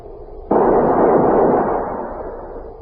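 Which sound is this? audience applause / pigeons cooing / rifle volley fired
rifle volley fired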